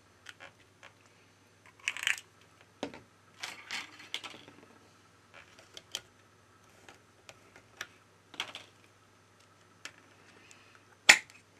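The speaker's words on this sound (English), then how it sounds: "We remove the back cover." Back cover being removed from a Samsung Galaxy Note 10 during disassembly, with scattered sharp clicks, ticks and small scraping bursts close by, separated by quiet gaps and ending in one loud snap.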